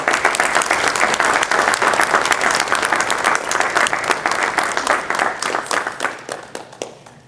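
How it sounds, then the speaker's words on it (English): A school board meeting audience gives a hearty round of applause for a young student, dense loud clapping from a room full of people that holds steady, then thins into scattered claps and fades near the end. "Let's give her a round of applause"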